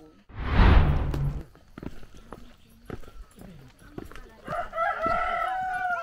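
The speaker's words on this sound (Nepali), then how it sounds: "ओहो कुखुराले पनि अल द बेस्ट भन्दैछ" A rooster crows on an election morning in Gangtok, its rising, wavering call coming in the last second or so, following a loud burst of rumbling noise and scattered clatter.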